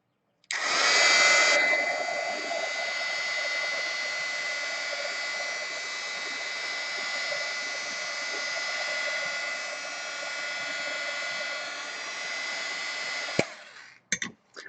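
A heat tool blows steadily over a watercolor painting in a hot press journal, a loud continuous whirring hiss that starts abruptly, holds for about twelve seconds, then clicks off, followed by faint handling noises.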